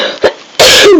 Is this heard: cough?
yes